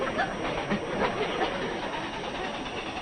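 A train rumbles along continuously with a hissing, rattling wash of noise, fairly loud and steady throughout without clear pauses.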